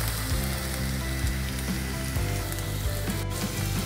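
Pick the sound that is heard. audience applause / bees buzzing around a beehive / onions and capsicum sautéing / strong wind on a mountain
onions and capsicum sautéing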